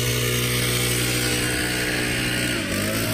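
A gas leaf blower roars steadily, its dense, unbroken engine drone filling the scene at close, loud range without letup.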